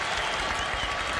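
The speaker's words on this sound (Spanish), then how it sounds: "Que se escuchen los aplausos." Steady applause from a crowd in a football stadium in Paraguay, dense and continuous clapping filling the short moment without pause.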